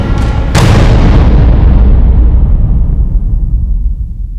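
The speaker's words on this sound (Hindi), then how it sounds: "सर मैंने धमाका सुना" A loud, close explosion goes off in a single heavy blast whose boom swells and then rolls away slowly, with no talk over it.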